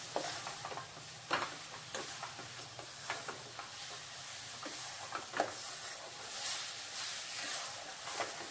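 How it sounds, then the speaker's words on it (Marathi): Coconut barfi mixture with milk powder being stirred continuously in a pan, a faint low sizzle broken by irregular scraping strokes of the spoon, close and quiet, no voices. "आता फक्त सतत एकसारखं हलवत आहे।"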